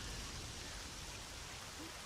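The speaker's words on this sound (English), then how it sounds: "Let's go inside, get out of this rain." Steady rain falling as an ambient backdrop in a S.T.A.L.K.E.R. tabletop game session, a continuous broadband hiss with no distinct drops, moderately quiet and unbroken, with no voices.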